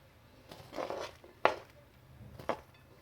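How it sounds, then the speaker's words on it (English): Chopped onion dropped into a bowl of lettuce in a home kitchen: a few quiet, soft, brief taps and rustles, spaced about a second apart, close and faint with no talk. "I'm now going to put some of my onion in there"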